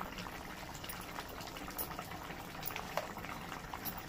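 Gobindobhog rice boils in a pot for fish-head murighonto, giving a steady, close bubbling and simmering that runs without a break, with a small pop near the end and no voices.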